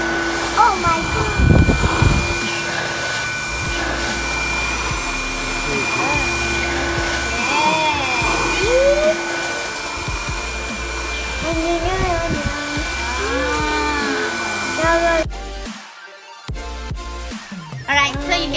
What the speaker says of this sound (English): So this one you can use to vacuum your car.